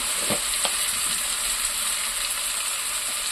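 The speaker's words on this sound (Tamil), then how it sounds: "மஞ்சள் ஒரு பிடிக்கு மஞ்சள் போட்டு நல்லா வணக்கிக்கலாம்" Turmeric fries in a pan with ginger garlic paste for a chicken curry, a steady close sizzle with a few soft stirring scrapes near the start.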